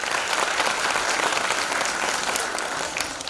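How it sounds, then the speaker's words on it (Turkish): Audience applause at a young writers' speech event, a steady, dense wash of many hands clapping, loud and continuous throughout with no talk. "Onu yoğun bir alkışlıyoruz."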